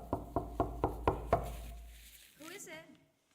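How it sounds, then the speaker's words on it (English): Someone knocks on a door six times in a steady rhythm during a staged play reading. The knocks are crisp and fairly close, then fade into quiet, and a brief voice follows. "she hears a knock at the door."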